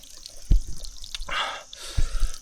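Water dripping and splashing from a natural spring tap in Meghalaya, with a few distinct close drips over a continuous outdoor trickle and a brief louder gush of running water in the middle.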